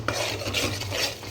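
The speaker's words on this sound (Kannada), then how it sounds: "ಈ ಥರ ಅದು ಹಸಿ ವಾಸನೆ ಹೋಗೋ ತನಕ ಸ್ವಲ್ಪ ಫ್ರೈ ಮಾಡ್ಕೋಬೇಕು" Coconut masala fried in a pan for mutton gravy gives a steady, close scraping rasp with a low hum beneath, and no one speaks.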